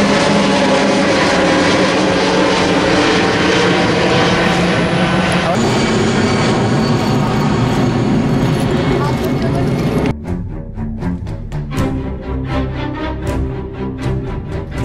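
Loud, steady aircraft engine roar from a plane flying over an area near a railway line, holding for about ten seconds before cutting off to a quieter background.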